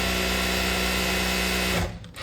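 A sewing machine run continuously to work oil through its mechanism, a loud, steady mechanical whir with a rhythmic hum, close by, slowing and cutting off near the end.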